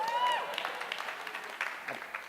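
An audience at a live presentation bursts into applause, a broad wash of clapping that starts strong and stays steady, fairly close and filling the room, with no voices over it.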